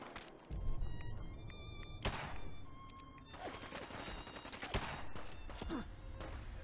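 Gunfire in the video game Fallout 4: several sharp, loud shots cut through a busy mix of game sounds, with bursts of rapid firing and tonal in-game effects spread across the stretch, no speech over it.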